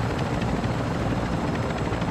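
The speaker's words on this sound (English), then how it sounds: "I wanted to make this helicopter a little bit better on angle." Helicopter flying in Call of Duty: Modern Warfare II, a loud, steady rotor and engine roar filling the scene with no pauses.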